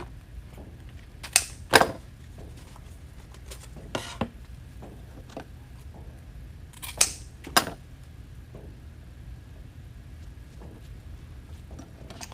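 A few sharp scissor snips cutting mesh ribbon in small clusters, close and crisp, separated by quiet pauses.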